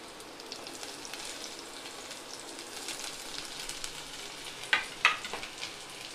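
Onion frying in a pan with ginger and green chilies for chicken fried rice: a faint, steady hiss with a few sharp crackles near the end, no voices.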